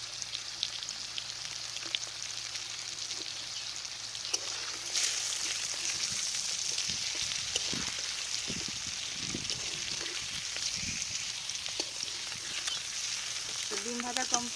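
Four quartered eggs seasoned with salt and turmeric fry in hot oil, giving a steady, close sizzle and crackle throughout with occasional spatters and stirring scrapes, no one speaking.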